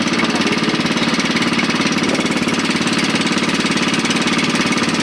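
A loud engine runs steadily with a rapid, pulsing chug, close and unbroken throughout, like a boat motor at speed.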